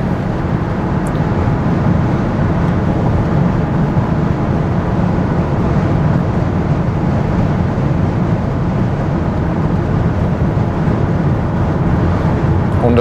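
A Tesla Model Y Performance electric car drives at speed, a loud, steady rush of road and wind noise inside the cabin with no breaks.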